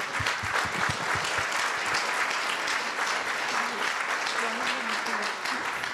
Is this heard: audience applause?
yes